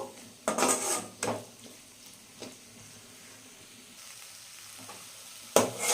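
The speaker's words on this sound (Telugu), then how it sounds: "ఇలా ఆనియన్స్, వెల్లుల్లి కారం అంతా బెండకాయలకి పట్టే వరకు మనం ఫ్రై చేసుకోవాలి" Okra fries with onion, garlic and chili paste in a pan, giving a soft sizzle. Several distinct scraping and clinking bursts from stirring stand out between quieter stretches.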